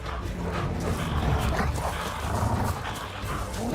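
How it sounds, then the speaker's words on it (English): Wolves in The Witcher 3 Wild Hunt snarl and yelp during an attack, a dense, continuous clamor of growls and barks layered over busy game combat noise. "Oh shit, lots of wolves."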